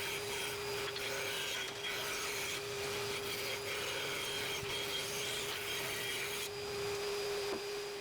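A router fitted in an Enjoywood router jig trims a wooden workpiece, giving a steady, unbroken machine whine with gritty cutting noise that holds at an even level throughout, with no talking.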